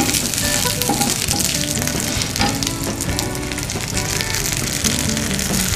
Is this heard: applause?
no